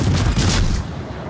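Warship guns fire in a naval battle game, one loud, deep boom followed by a rumbling decay.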